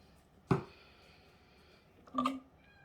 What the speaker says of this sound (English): That's the cat meowing.